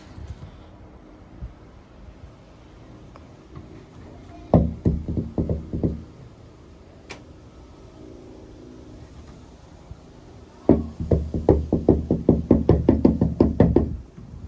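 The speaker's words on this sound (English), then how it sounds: "Let me just knock on the door so he knows." Knuckles rap on a shed door in two bursts of rapid knocks, a short series followed later by a longer run, close and sharp, with faint background noise between.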